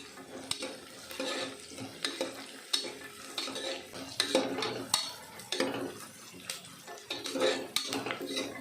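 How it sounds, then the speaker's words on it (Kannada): A spoon stirs turmeric powder into onions and peas frying in oil for vangi bath, with repeated metal scrapes and clinks against the pot over a soft sizzle, close and steady with no talking. "ನಂತರ ಇದಕ್ಕೆ ಒಂದು ಅರ್ಧ ಸ್ಪೂನು ಅರಶಿನ ಪುಡಿ ಹಾಕಿ ತಿರುಗಿಸ್ಕೊಬೇಕು"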